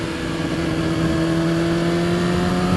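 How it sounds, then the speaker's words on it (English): A 2015 BMW S1000RR four-cylinder sport bike pulls hard in sports mode, its engine a loud, steady, buzzing whine that holds an even pitch for a few seconds. "The bike really responds as a 4-cylinder, and you can feel it's really powerful."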